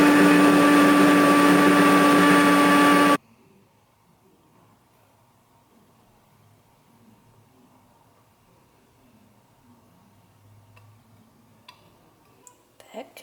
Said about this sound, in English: I just blend it all together in the blender with like 8 to 10 ice cubes